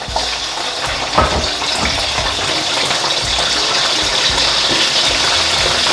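Fish pakora sizzling and crackling steadily in a pan of hot oil, a dense continuous hiss with small bubbling pops, close and fairly loud with no talking.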